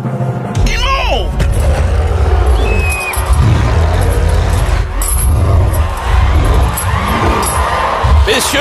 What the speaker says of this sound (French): Je vous demande, mesdames et messieurs, de faire un tonnerre d'applaudissements